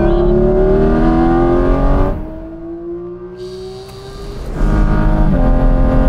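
Porsche GT4 RS engine revs up loudly with rising harmonics, drops away briefly as if lifting off or shifting, then surges back to full throttle close to the microphone.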